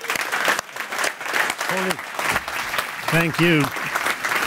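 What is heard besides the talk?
audience applause at a conference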